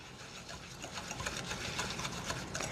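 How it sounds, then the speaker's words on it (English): A whisk stirs an icing mixture with packed brown sugar for a farmhouse cake, making a steady, close, buzzing, rhythmic whir that lasts a few seconds with no talking. "I'm going to whisk that just a little bit, just to get it mixed up."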